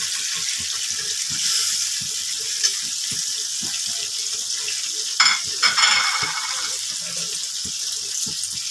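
Spiced masala of salt, turmeric, Kashmiri red chilli and hot chilli powder frying in oil for a fish curry. A constant crackling sizzle carries short scraping stirs and a couple of louder clatters midway.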